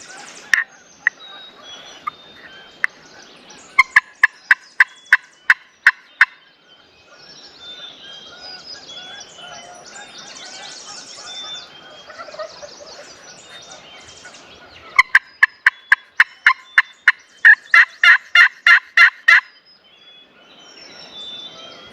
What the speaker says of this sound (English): there's 2 or 3 gobblers that way